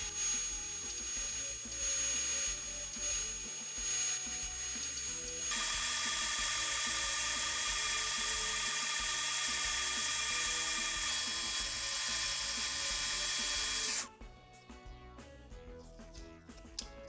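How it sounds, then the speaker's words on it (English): A power carving tool grinds and whines steadily while shaping a magnetic truss rod cover for an electric guitar, then cuts off into quieter scraping and handling sounds near the end. "it's time to carve out the shape of the truss rod"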